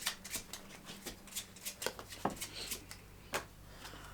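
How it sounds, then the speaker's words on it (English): A deck of cards being shuffled for the Moonrakers: Titan Edition board game, a quick run of soft riffling flicks and taps close by, steady for several seconds with no talk over it. "I have to go ahead and shuffle."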